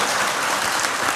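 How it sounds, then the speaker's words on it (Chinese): A seated lecture audience at a Buddhist education foundation event claps in a brief, steady burst of applause, loud and close, with no voices over it. "掌声欢迎林博士"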